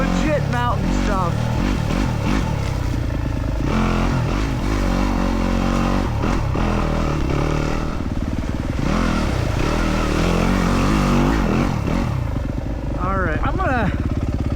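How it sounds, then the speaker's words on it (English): A 2025 Yamaha WR250F dirt bike climbing a Colorado mountain trail, its engine revving and bogging through gear changes with clatter from the rough ground, loud and close the whole way. "see if we can't get this little bike through some legit mountain stuff"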